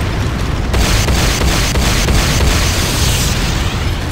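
The Hand of Nod building in the video game Renegade explodes in a loud, sustained roar of blasts and rumbling debris, with several sharp bursts repeating close up and no talk.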